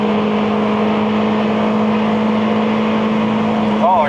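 A 1989 Honda Accord LXi coupe with 350,000 miles drones loudly at steady high revs from inside the cabin, with a brief wavering stutter near the end as the engine hits the rev limiter.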